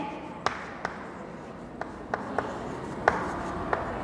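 Pen tapping and scratching on paper while working a Class 7 maths problem, a few soft scattered ticks and strokes over a quiet, hissy room.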